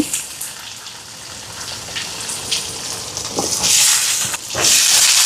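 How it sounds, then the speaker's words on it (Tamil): Shallots, curry leaves, dried chillies, fennel seeds and garlic sauté in a pan with a steady hiss and sizzle. It swells into louder steamy bursts toward the end. "இதெல்லாம் நல்லா வதங்கட்டுக்கும். நல்லா வெங்காயம் வதங்கட்டுக்கும்."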